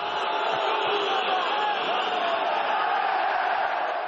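Booing from a packed football stadium crowd aimed at the number 20 player, Lucas Lima, while he has the ball, a loud, continuous wall of jeering voices with no break.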